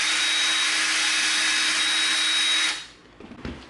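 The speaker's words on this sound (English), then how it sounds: "All right, we've got a small little Forstner bit here." A small Forstner bit drills through EVA foam for a prop blaster, a loud, steady motor whir close by that holds for under three seconds, then cuts off into a few light knocks.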